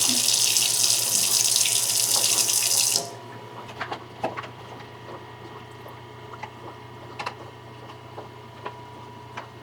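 Coleus cuttings are rinsed under a running kitchen tap: a loud, steady stream of water for about three seconds that then stops, followed by faint clicks and light handling sounds.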